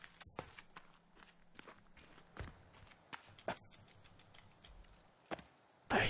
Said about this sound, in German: Alter, diese Schritte vom Krokodil.